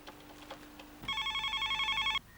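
A telephone rings indoors with an electronic warbling trill, starting after a quiet moment and lasting about a second, fairly soft and alone with no talking.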